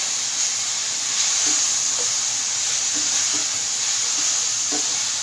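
Shrimp frying in a pan for General Tao chicken-style dish, a steady bright sizzle and hiss with a few soft clinks of stirring, moderately loud and close, no talk.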